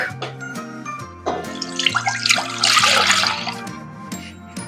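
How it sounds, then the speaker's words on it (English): Homogenized milk poured into a saucepan on a stove set to medium heat, a loud splashing, gurgling pour building midway and trailing off, over steady background music. "In the saucepan, I'm going to add 2 cups of homogenized milk."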